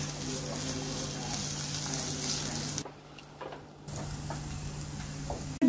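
Ginger and green chili frying with onions in a pan, a steady close sizzle and crackle that drops away briefly, then resumes with light stirring ticks.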